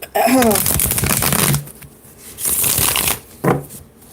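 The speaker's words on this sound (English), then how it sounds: "let's go ahead and shuffle up some tarot cards" Tarot cards riffle and shuffle in several quick, crisp bursts close up, with a brief pause between rounds.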